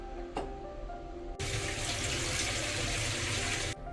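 About one and a half cups of water poured into a pot of gravy for a Kerala meat rice dish: a short knock, then a steady, close gush of pouring water for about two seconds that stops abruptly.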